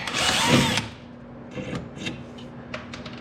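A power tool drills hard on a bolt of a Suzuki King Quad 300 ATV for under a second, then stops, leaving quiet with scattered metallic clicks and small handling taps.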